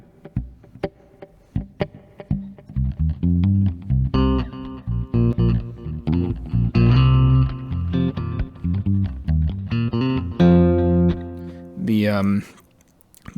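Electric guitar played through an ambient reverb pedal with a Hall algorithm and a tap tempo delay, with chords and notes swelling into long washy trails and repeating echoes, ending with a rising shimmer.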